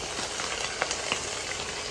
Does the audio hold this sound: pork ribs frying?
yes